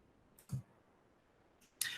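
Mouse clicks on a computer while working in the CoSpaces virtual reality program: a few quiet, sharp clicks spaced apart, the last one crisper and louder, over a faint room hiss with no talking.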